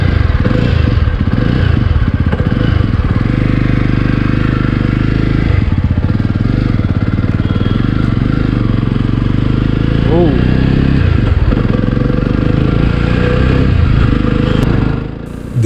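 Jawa Forty Two motorcycle from 2021 running during a test ride, its engine a loud, steady, close chugging drone that holds nearly unbroken throughout before dropping off at the very end.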